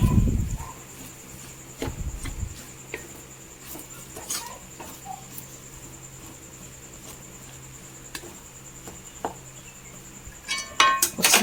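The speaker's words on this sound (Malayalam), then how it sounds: "നമുക്കൊന്ന് തുറന്ന് നോക്കാം ഇളക്കി കൊടുക്കാം" A lid comes off a cooking pot on a low flame and a spoon stirs the food inside, making sparse, quiet clinks and scrapes separated by near silence, with a brief clatter of metal toward the end.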